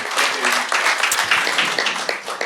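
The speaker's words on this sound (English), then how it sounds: "A big round of applause to him" Audience at a startup demo day applauds a presenter, a brief burst of clapping with voices and some cheering mixed through it, fairly close and lively.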